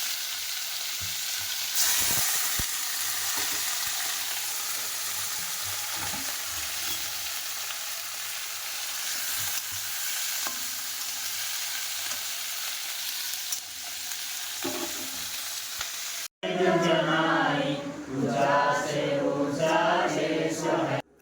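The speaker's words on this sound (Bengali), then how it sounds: "রান্না করছি দেখায় বিনস সিম আলু বেগুন কচু আর মূলা দিয়ে একটা তরকারি করছি" Beans, flat beans, potato, eggplant, taro and radish for a curry sizzle and fry steadily in a pan with occasional stirring scrapes, then a louder, more tonal passage cuts in over the last few seconds.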